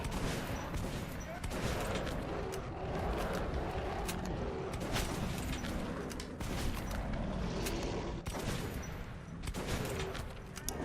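Dense gunfire in the video game Metro 2033, a continuous loud barrage of rapid shots and booms with speech partly buried beneath it.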